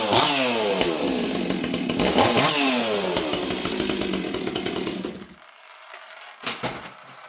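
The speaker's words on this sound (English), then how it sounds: "The saw starts easy." Stihl 026 chainsaw pulled to life and revving, its high buzzing whine rising and falling in bursts, then cutting out abruptly to near silence with a few faint knocks and clatters; loud and close.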